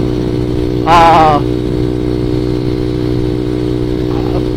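A ZS 190cc Honda Grom clone motorcycle rides along with a steady engine drone and wind noise, one short louder burst where the revs climb, and faint talk in the background.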